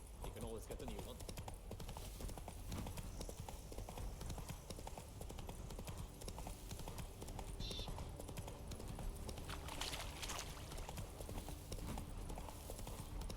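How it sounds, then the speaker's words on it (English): Horse hooves clip-clopping at a steady walking rhythm in The Witcher 3, faint beneath someone talking over the game. "Whoa there, Roach"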